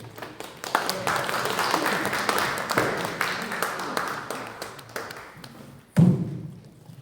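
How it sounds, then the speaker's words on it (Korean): A lecture audience at a poet's talk gives scattered, uneven clapping with loud individual claps that tails off, then one sharp thump near the end before quieter murmur; a voice speaks briefly under it. "박수를 청해 듣겠습니다"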